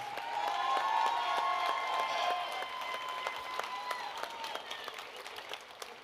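An audience applauds two students at a school district State of the District event, steady clapping that gradually thins out, with some faint voices and tones beneath it.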